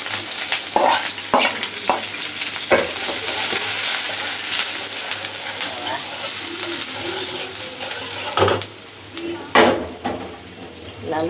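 Onions frying in hot oil in a pan before eggs go in, a steady close sizzle and crackle broken by a few sharp clinks and scrapes of a spatula against the pan.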